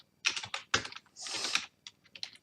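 Fast bursts of keystrokes on a computer keyboard while entering commands at a command line, close and fairly loud, with short pauses between clusters of clicks and no talking.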